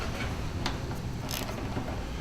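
A ratchet wrench loosens bolts on a motorcycle, beside the petrol tank, during work on the starter motor; a few short clicking bursts sit close against a steady, noisy workshop background, with no talking.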